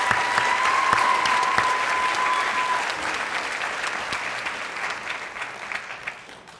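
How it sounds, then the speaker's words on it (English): An audience at a teacher of the year reception claps in sustained applause that fills the room, then gradually thins and fades, with a brief tone heard near the start. "Let's give them all three one more round of applause."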